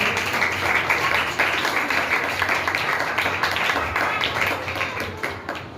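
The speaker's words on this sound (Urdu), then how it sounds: "اسی یسوع کے لیے زوردار تالی بجائیں" A church congregation claps loudly in praise of Jesus, a thick, sustained burst of applause that holds steady and eases off slightly near the end.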